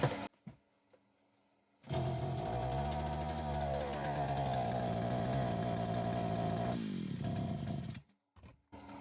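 A Kitpromm petrol brush cutter starts after a few faint pulls and roars into a loud, steady two-stroke whine, revving and holding for several seconds before cutting out abruptly, then quiet clicks.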